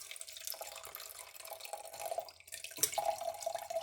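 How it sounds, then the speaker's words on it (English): Homemade jug wine pours into a wine glass in a kitchen, a quiet trickling and splashing stream that pauses briefly and resumes, close and faint, with no talk. "So here's a wine glass. I'm just gonna pour a little bit of this"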